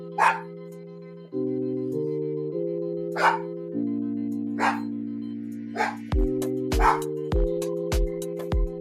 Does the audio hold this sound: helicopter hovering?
no